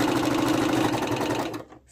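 A domestic sewing machine stitches lace appliqué with a rapid, steady mechanical whir that runs loud and close for about a second and a half, then stops abruptly, leaving near silence.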